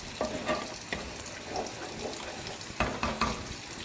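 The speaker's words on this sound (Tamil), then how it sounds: "கிரேவி பாருங்கள் நல்லா கொதிச்சுக்கிட்டு இருக்கு" Kovakkai (ivy gourd) gravy bubbling in a pan, with a steady sizzling hiss punctuated by soft pops and occasional clinks close by.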